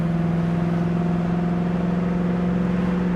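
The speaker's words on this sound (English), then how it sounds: "The car has good acceleration." A 1970 Ford Mustang Mach 1 accelerating at about half throttle, a steady droning engine tone with a strong low hum, heard continuously from inside the car.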